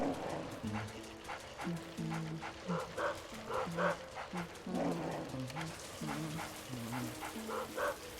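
A boss ghost dog in the Luigi's Mansion video game barks and yips repeatedly in short, rhythmic bursts, up close and fairly loud, with faint game background sound underneath.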